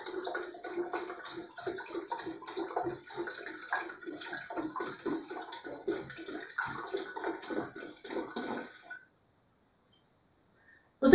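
Water pours steadily into a pot to be boiled for barbatimão bark tea, a continuous splashing, gurgling stream heard up close for about nine seconds before stopping abruptly into silence.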